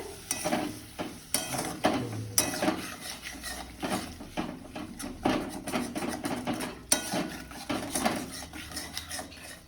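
Onion paste is stirred into pointed gourd in a pan, with repeated scraping and clattering strokes of a spoon against the pan over a soft frying sizzle, in an irregular rhythm.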